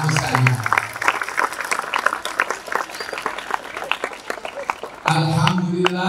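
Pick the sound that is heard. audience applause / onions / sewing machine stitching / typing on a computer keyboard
audience applause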